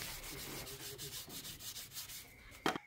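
A motorcycle body panel is sanded by hand with 400 grit sandpaper, in soft, rhythmic back-and-forth rubbing strokes close by, ending with a brief knock.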